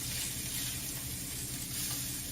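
Rainbow trout searing in a hot pan, a steady, close crackling sizzle that holds evenly from start to finish with no voices.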